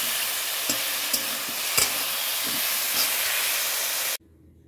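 Vegetable curry seasoned with salt and turmeric cooks in a pan, giving a steady close sizzle and hiss with a few stirring clicks, then cutting off abruptly near the end.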